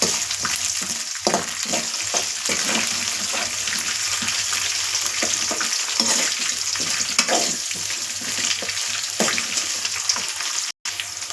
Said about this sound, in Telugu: ఇలా ఈ విధంగా మంచిగా వేయించుకోవాలి.